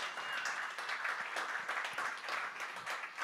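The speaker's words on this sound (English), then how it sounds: "That is amazing and deserves a round of applause." An audience at an investor pitch night gives sustained applause. The clapping is dense and even, with a few sharper individual claps standing out, and no one speaks over it.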